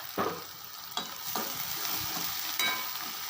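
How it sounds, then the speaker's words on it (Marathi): Onion, green chili and tomato sizzle steadily in a hot pan, with a few sharp stirring scrapes punctuating the close, continuous frying hiss. "फ्राय करून घेणार आहोत कांदा थोडासा लालसर होईपर्यंत आपण त्याला भाजायचा आहे"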